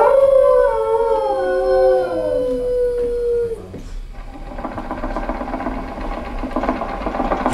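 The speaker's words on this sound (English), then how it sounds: "My daughter Patty is using that old exercise machine she rescued from the attic" Old 1920s exercise machine brought down from an attic, running with a steady mechanical whir and rattle after a dog's long howl fades out.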